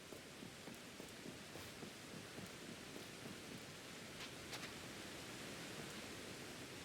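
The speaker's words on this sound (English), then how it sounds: "I don't like when it rains here. It makes me uncomfortable." Steady rain falls in Pokémon Legends: Arceus, a dense even hiss with a few sharper drop ticks and no voices over it.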